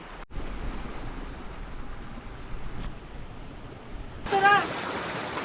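Continuous rushing flow of a waterfall stream in Uttarakhand, steady and near, briefly swelling louder toward the end.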